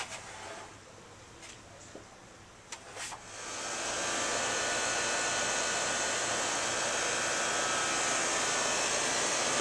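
Rheem 410A 5-ton air conditioner condenser with a scroll compressor and 1/5 horsepower 850 rpm fan starts up after a few faint clicks, then settles into a steady, smooth broadband whoosh and hum heard close up.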